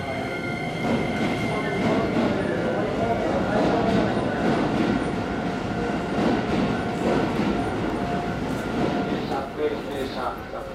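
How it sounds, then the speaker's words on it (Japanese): Toei Asakusa Line 5300 series train idling at Keisei Takasago station before the last late-night departure, a steady loud rumble of motors and station hum throughout, with announcements playing over it. "最終電車は当駅24時11分の発車です。"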